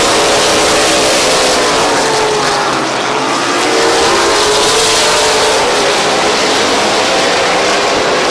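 Race cars at Midvale Speedway running side by side down the back straightaway, a loud sustained engine roar with rising and shifting pitch as the pack passes, filling the whole stretch without talk.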